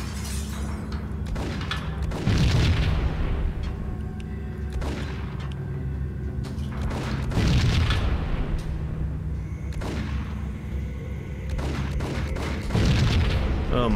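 Repeated gunshots and booming explosions from the video game Max Payne come in bursts every couple of seconds over a steady low game soundtrack, with no talking.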